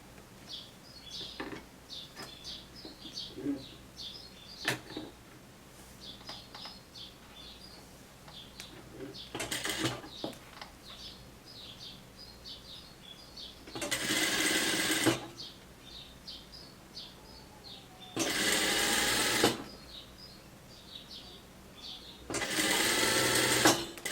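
A sewing machine stitches a hem in three loud, sustained runs of several seconds each. Birds chirp faintly in the background between the runs.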